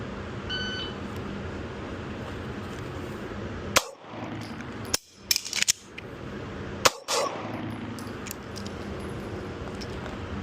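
Handgun shots crack out during a draw and reload drill in a strong-hand shooting practice: a lone shot, then a pause for the reload, then a quick pair and a few more sharp reports over steady background noise.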